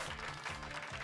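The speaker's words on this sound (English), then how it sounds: "Pikachu likes the clapping." Brief burst of clapping applause in the game Pokémon Violet, steady and moderately loud, with faint voices mixed in.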